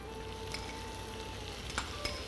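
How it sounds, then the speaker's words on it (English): Small tomatoes sizzle in a hot pan of browned spices for an Indian dish, a steady bright frying hiss with a few soft pops and stirring clicks, close and without talk. "you guys are hearing the sizzle"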